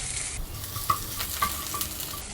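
Ginger and garlic fry in hot oil with a steady sizzle while a spoon stirs and clinks against the pan, cooking colocasia roast.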